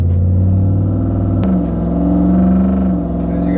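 A loud, deep exhaust rumble from a Ford F-150 pickup running without catalytic converters, steady and throaty with a brief shift in pitch partway through, no voices.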